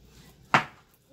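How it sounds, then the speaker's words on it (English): One sharp, close knife chop slices through a rinsed plantain on a board, a single crisp thud that fades quickly in a quiet kitchen. "So I'm slicing it now."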